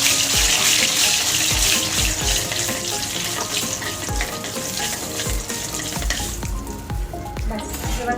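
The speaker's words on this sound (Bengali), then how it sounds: "লঙ্কা সর্ষে ভাজা হয়ে গেছে, এবার ডালটাই ফোড়ন দিয়ে দেবো।" Chili and mustard seeds crackle and sizzle in hot oil as a tempering for sour dal, a dense, steady frying hiss with sharp pops throughout, close and loud with no talking.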